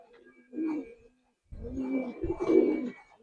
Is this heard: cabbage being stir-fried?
no